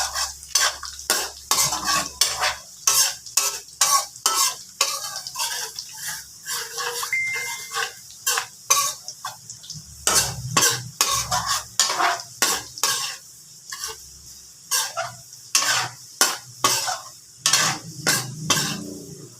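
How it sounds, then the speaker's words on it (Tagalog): Garlic frying in butter in a pan for buttered garlic shrimp, with a constant sizzle under rapid, repeated metallic scrapes and clinks of a spoon stirring against the pan, close and busy throughout. "Lutuin natin yung garlic hanggang sa mag-brown"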